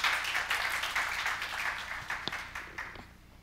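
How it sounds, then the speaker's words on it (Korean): A lecture hall audience applauds to welcome a speaker, producing steady clapping that stays fairly close and moderately loud, then gradually thins and fades out toward the end. "박수로 맞이해 주시면 감사하겠습니다."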